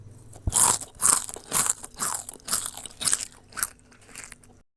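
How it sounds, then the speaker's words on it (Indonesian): Crunchy fried wonton chips with spicy balado seasoning bitten and chewed up close, a run of about seven loud, crisp crunches in a steady rhythm with no talking. "sekarang kita mau tes rasanya, gimana sih rasa pangsit goreng balado ini"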